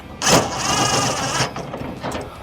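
An impact gun on automatic setting rattles in a sustained buzzing burst while tightening bolts on a GWM Cannon tailgate lock, followed by shorter follow-up bursts, close and loud.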